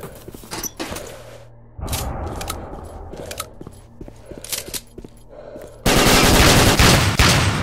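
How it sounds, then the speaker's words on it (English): Gunfire in STALKER: Shadow of Chernobyl, with a shot striking a barrel: sharp, loud reports and clattering impacts spread through the clip, ending in a sustained, roaring burst like an explosion or blast. "Why did I shoot the fucking barrel?"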